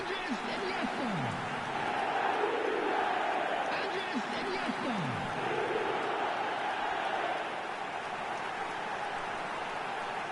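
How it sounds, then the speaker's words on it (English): A large stadium crowd in a PlayStation 5 football video game keeps up a steady roar, with swelling chants that rise and fall in waves throughout. "Now the crowd are demanding that they just finish this off."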